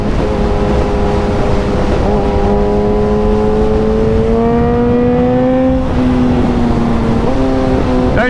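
A high-performance motorcycle engine held high in the rev range on a road ride, with a loud, sustained whine climbing steadily in pitch and short breaks and shifts where gears change, heard up close over wind rush.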